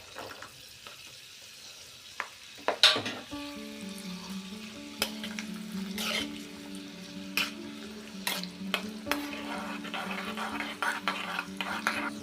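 Raisins fry and sizzle in hot ghee for old-fashioned cucumber seed payasam, stirred with a spoon that clinks and scrapes against the pan in a steady, close sizzle with a few sharp metallic knocks.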